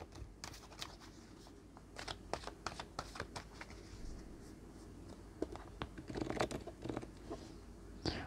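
Tarot cards being shuffled by hand for a five-card spread, a soft continuous riffling and sliding with scattered sharper flicks and taps, close and fairly quiet with no voices.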